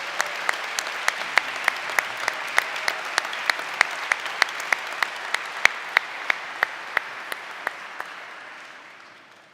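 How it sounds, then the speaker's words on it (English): Staff receive a round of audience applause at a university convocation address, a steady dense wash of clapping lasting several seconds with sharp individual claps standing out, then tapering off at the end. "Could our staff please rise for a round of applause?"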